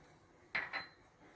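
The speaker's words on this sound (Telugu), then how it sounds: "ఇప్పుడు ఒక పార్ట్లో నేను కోకో పౌడర్ మిక్స్ చేస్తున్నాను." A utensil stirring cocoa powder into eggless cake batter in a bowl: two quick, bright clinks against the bowl in close succession, close and quiet over faint room hiss.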